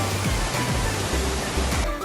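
Sarang Walet waterfall, fed by water from Mount Rinjani, roars steadily as a dense, continuous broadband rush of falling water, close and loud throughout with no pauses.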